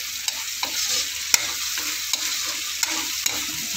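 Chicken for adobo stir-fries in a pan, a steady hiss of sizzling oil broken by sharp scrapes and clacks of a utensil stirring at irregular intervals, close and fairly loud with no talking.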